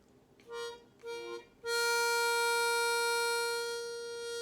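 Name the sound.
harmonica, single note blown on hole 4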